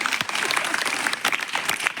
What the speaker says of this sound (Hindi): एक बार तालियां हो जाए